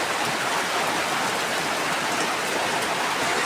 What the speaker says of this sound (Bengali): এখনই বৃষ্টি আসে গেল।